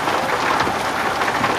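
Rain drumming loudly through an open car window in a video game, a dense, steady hiss with a low rumble underneath, sustained and close, with no talk.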